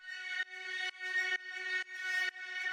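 An FM synth patch of four sine waves without detune plays a plain, single-sounding tone, repeated as six sustained notes in a steady rhythm, loud and alone.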